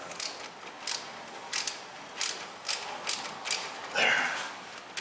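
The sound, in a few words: small ratchet tightening bolts on Toyota Prius hub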